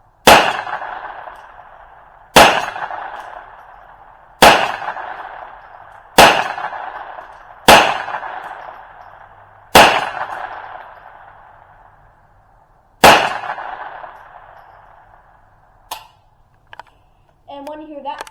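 Seven sharp .22 Long Rifle shots from a Ruger or Savage rifle at a target, loud and spaced a couple of seconds apart, each ringing briefly. A few faint clicks and handling noises follow at the end.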